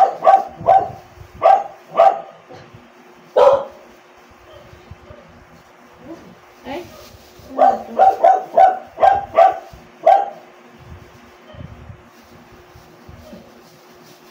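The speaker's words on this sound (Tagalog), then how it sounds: "May aso siguro sa labas." A dog barking outside in bursts of sharp, repeated barks, fairly loud with short gaps between volleys and a few quieter yips in between.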